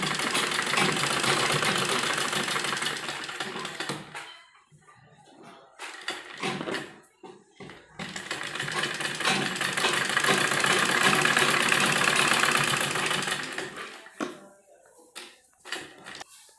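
A sewing machine stitches a frill onto the sleeve of a baby kurti, its motor giving a steady close whir in two long runs separated by short pauses and a few brief bursts.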